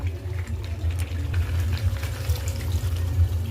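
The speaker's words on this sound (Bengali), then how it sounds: "দেখুন এতে পরিমাণ মতো জল দিয়ে দিলাম।" Water is poured into a pot of braised chicken curry with potatoes, a steady rushing wash that fills the clip over a low, constant hum, with no talking.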